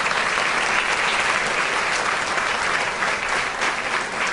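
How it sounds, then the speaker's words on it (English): Dinner audience at the 2017 Griff's Sideline PC Dinner applauding as a guest is brought to the stage, dense sustained clapping from a large crowd, loud and steady throughout, with no talk. "A round of applause for John."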